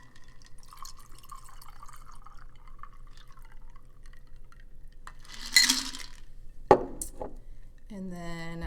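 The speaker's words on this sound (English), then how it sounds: "And then you're going to strain that into an old-fashioned glass." A cocktail is strained over ice into an old-fashioned glass, giving a few faint clinks, a splash of pouring liquid and one sharp glassy knock, all quiet against a low background hum.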